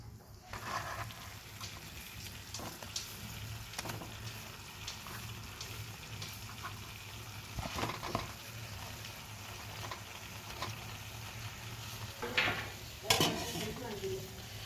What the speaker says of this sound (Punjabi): ਹੁਣ ਇਹਦੇ ਵਿੱਚ ਪਨੀਰ ਐਡ ਕਰਾਂਗੇ